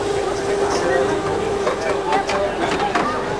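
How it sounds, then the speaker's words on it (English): A tram car rolls past close by at a film festival, a continuous rumbling hum with a steady tonal whine and squeaks over street noise. "Hey, watch the tram car."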